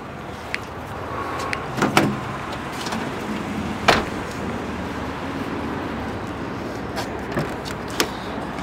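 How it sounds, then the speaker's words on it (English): Rear hatch of a 2007 Honda Odyssey minivan opening: a couple of latch clicks and thumps, then the hatch rising with a soft mechanical whir and creak over a faint room hum, moderately close. "Open up the rear hatch"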